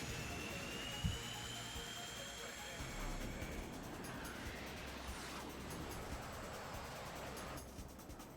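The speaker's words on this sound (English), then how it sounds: "Look, F-15s, yep!" A steady roaring whine of F-15 fighter jets passing overhead in the game Parasite Eve, a sustained engine drone with shifting high tones that fades near the end, a brief thump early on.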